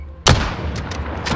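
A single loud, close shotgun blast in Call of Duty: Modern Warfare cracks out suddenly and rolls into a booming tail, with a few faint clicks trailing after.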